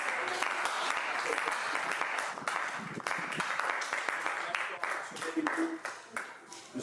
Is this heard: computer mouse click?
no